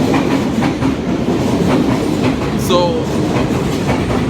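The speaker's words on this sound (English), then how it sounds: "it makes no sense to wait for these trains all the time" A train rolls past close by with steady clickety-clack of wheels over rail joints, loud and continuous throughout, with a brief high wheel squeal near the end and a voice speaking faintly once.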